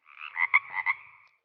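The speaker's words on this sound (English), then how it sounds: "Yes, it is the croaking of frog." A frog croaks in a quick series of raspy pulses, several bursts strung together over about a second, fairly close and alone.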